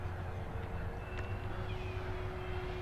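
An FMS P-39 Airacobra RC model plane flying past at low altitude, a steady distant motor whine over outdoor ambience.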